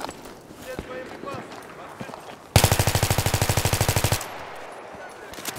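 Automatic gunfire in the Battlefield 3 video game, a loud rapid burst of about a second and a half of evenly spaced shots, amid quieter game noise and voice chat before and after.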